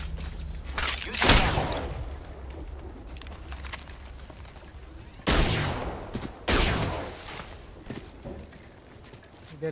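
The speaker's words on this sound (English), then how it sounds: "The enemies are shooting at me." Enemy gunfire in the video game Apex Legends cracks out in a few sharp, loud volleys, with separate bursts near the start and middle and quieter background rumble between them.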